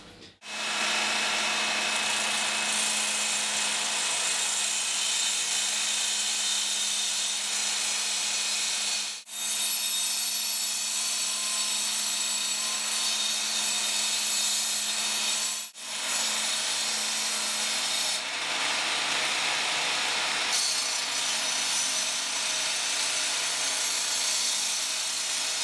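A power sander grinds a rusty Japanese machete blade in a steady, loud, continuous whir, broken by two short pauses.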